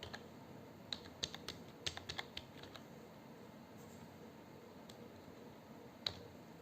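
Typing on a computer keyboard: sparse, quiet key clicks come in short irregular bursts, then a final single tap, with no voice over them.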